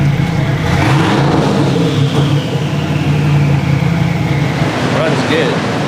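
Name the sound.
Mercedes 190E EVO II engine starting and revving on dyno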